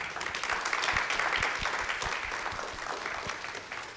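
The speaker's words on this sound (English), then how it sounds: "if we can give a warm round of applause to our panelists." An audience applauds steadily, with a few louder claps standing out close by against the broader clapping, easing off gradually.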